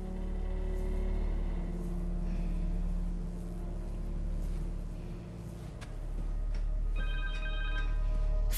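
A cell phone rings inside the Spider-Man 2 game, a repeating electronic ringtone over a low, steady background rumble, with no one speaking.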